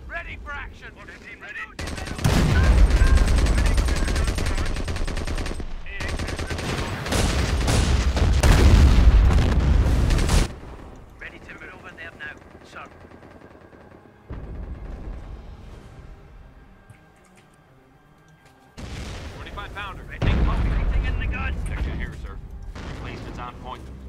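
Artillery bombardment in a World War-style video game comes as long loud rumbling barrages of booms and rapid gunfire, separated by quieter stretches, with talking over the game sound.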